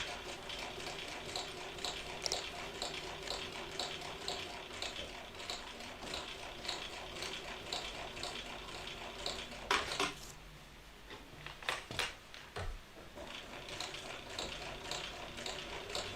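A sewing machine top stitches a bag lining, its needle running in a fast, even mechanical chatter that pauses briefly midway with a few handling clicks before resuming.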